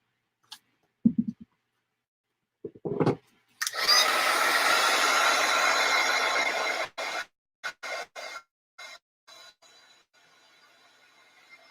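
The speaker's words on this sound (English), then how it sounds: "Got something broken in my hair dryer" A faulty hair dryer runs with a steady broadband whoosh for a few seconds, preceded by clicks and followed by stuttering bursts as it cuts in and out.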